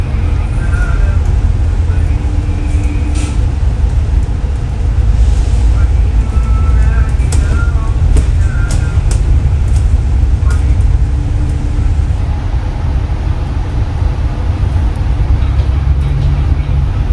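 RapidKL double-decker bus rumbling through busy Kuala Lumpur traffic, a steady loud low engine drone with road noise around it and a voice talking over it.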